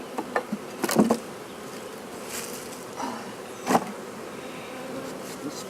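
Bees buzz around an opened hive during a spring beehive inspection, a low, wavering drone with a few louder passes as single bees fly close to the microphone, then fade away.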